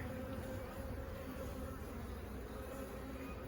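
Honey bees buzz steadily and densely at an open hive with a single brood chamber, a constant close swarm hum filling the moment without any talk.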